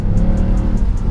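A 2012 Mercedes C63 coupe's front-mounted 6.2 litre engine, rear-wheel drive with a paddle-shift gearbox, pulls hard and loud in a sustained close-up roar during a gearshift into second.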